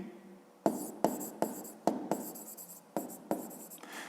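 Pen strokes on paper while a fifth-grade math exercise is worked out by hand: about eight distinct scratchy writing bursts in an irregular rhythm, close and fairly quiet, with no talking.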